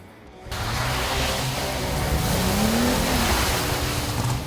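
Dodge Challenger GT AWD driven sideways, its engine a steady loud roar with a rising pitch sweep midway, continuous and close with broadband tyre and wind noise throughout.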